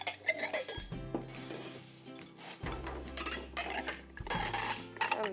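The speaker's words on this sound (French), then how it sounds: "On va tout mélanger." Cutlery scrapes and clinks against a dish as food is stirred and mixed, with a continuous metallic clatter and a faint sizzle underneath.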